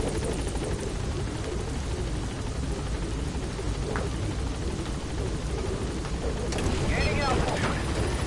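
Helicopter arriving at a landing zone in the game Metal Gear Solid V, a loud steady rotor drone that fills the whole clip with a dense, rumbling, wind-like roar.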